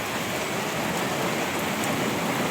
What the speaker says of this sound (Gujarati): જો આવે વરસાદ